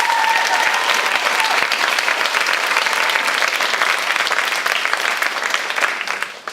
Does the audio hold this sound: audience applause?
yes